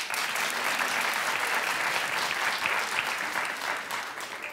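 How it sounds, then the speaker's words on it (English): A talk-show studio audience claps steadily for several seconds, a dense, even wash of applause that tapers slightly at the end. "Clap if you watched."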